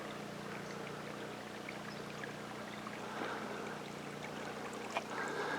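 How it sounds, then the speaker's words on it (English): A small mountain brook high in the Uinta Mountains at about 9,000 feet flows some thirty yards off, giving a steady, broadband rush and trickle that runs unbroken throughout, with a low hum beneath it. "Nice little brook."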